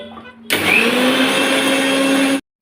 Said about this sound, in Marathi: आता हे मिक्सरला आपण बारीक करून घ्यायचं आहे